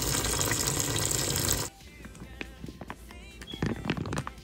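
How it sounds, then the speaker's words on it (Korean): Food rinsed under a running cold kitchen tap, a loud steady hiss of flowing water that cuts off abruptly, followed by quieter wet handling and dripping sounds close by. "찬물에 헹굽니다."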